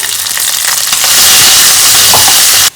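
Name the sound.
onion, mustard seeds, cumin and dried chillies frying for tempering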